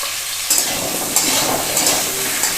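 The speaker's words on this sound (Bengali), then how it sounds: "তো ভেজে নিচ্ছি আমি আলুগুলোকে।" Potato pieces frying in mustard oil in a wok, a loud steady sizzle broken by a few stirring scrapes, close up with no voices.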